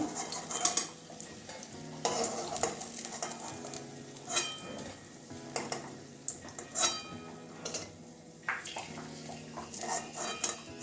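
Eggplant sizzles softly in a pan while a utensil stirs and scrapes with intermittent clicks and taps, fairly quiet and close.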